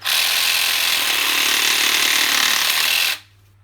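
A Parkside 12V cordless pruning saw cuts through wood with a loud, steady buzzing reciprocating rasp for about three seconds, then stops abruptly, leaving a faint low hum.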